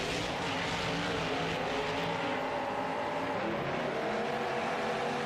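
Monster trucks Evil Force and Windbreaker race inside a stadium in Anaheim, California, their engines producing a steady, dense roar that fills the whole space without a break.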